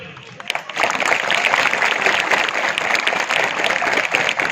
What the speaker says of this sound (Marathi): आता पुरुष मंडळी टाळ्या वाजवतील,